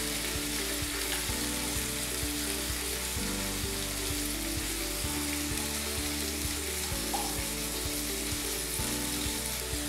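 Cassava sizzles steadily in hot oil in a pan, a constant close frying crackle with faint clinks of utensils now and then.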